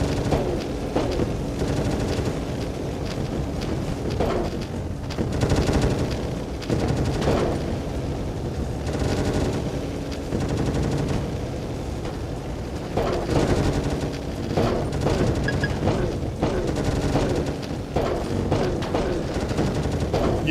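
A video game missile and gunfire barrage roars on loudly and continuously, with dense rapid bursts and heavy booming impacts swelling and easing in waves, no voices over it.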